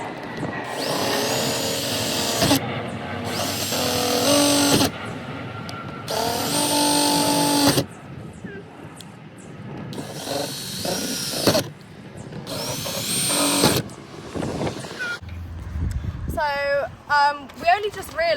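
A cordless power drill whines in long bursts, starting and stopping repeatedly as it drives self-tapping screws during a van conversion solar panel installation, with voices talking in the gaps and near the end.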